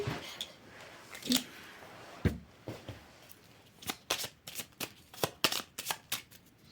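Tarot cards are shuffled by hand in a quiet room, a series of crisp riffling and flicking bursts that quicken into a rapid run of snaps toward the end.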